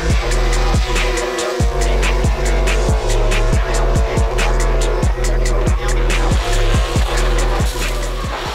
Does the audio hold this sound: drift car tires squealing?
yes